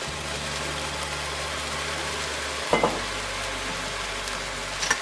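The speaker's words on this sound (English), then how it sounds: "now I'm gonna add in some wine. Just gonna add in a little Merlot." Merlot poured into a pan of sizzling onions and mushrooms for a Mexican pizza topping gives a steady frying hiss, with a brief louder splash and sputter midway as the wine hits the hot pan.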